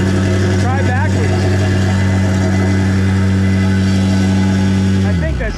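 Milwaukee MX Fuel battery-powered plate compactor running steadily with a loud, constant motor drone and heavy vibration throughout, its pitch dropping as it winds down at the end, while people talk over it.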